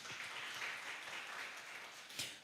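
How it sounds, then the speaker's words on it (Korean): A children's Sunday worship congregation claps together indoors, a faint, steady patter of many small hands lasting a couple of seconds. "박수 한번 부탁드리겠습니다."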